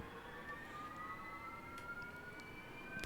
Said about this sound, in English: you should start to hear the engine spool up